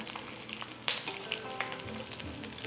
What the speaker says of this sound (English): We'll fry them in 2 tablespoons of vegetable oil in a wok until crispy.